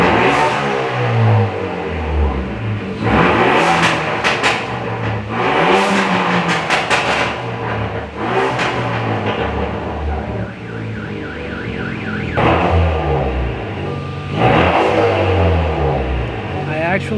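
A Kia Forte Koup engine revs repeatedly through its freshly repaired exhaust, the note rising and falling in several loud pulls close to the listener with no audible leak.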